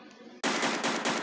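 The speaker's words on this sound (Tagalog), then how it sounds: "Lakas ng baril ko eh" Automatic gunfire in a zombie shooter video game fires in a loud, sustained burst with rapid repeated shots, after a brief quieter lead-in.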